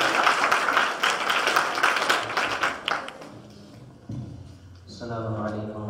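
A school audience claps steadily at a Kashmir Day assembly, a dense patter of hands that fades after about three seconds before a voice begins speaking.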